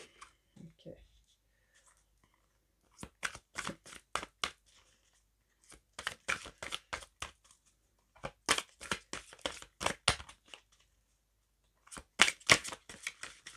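Tarot cards are shuffled and drawn in short, crisp bursts of riffling and flicking, close and clear, separated by brief quiet gaps.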